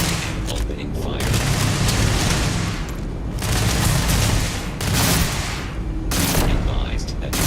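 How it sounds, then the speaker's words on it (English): Sustained bursts of heavy gunfire and booming shots from the video game Crimson Fleet, loud and dense in several long waves, with a voice speaking over parts of it. "Opening fire."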